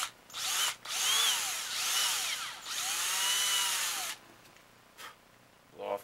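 A power drill bores a centered pilot hole through the jaw of a wooden clothespin, whining up in two long bursts with brief pauses between them, followed by a few short faint taps.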